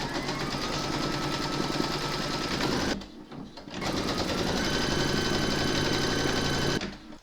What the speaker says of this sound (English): You're then going to pop your hoop into your machine and stitch round number 6.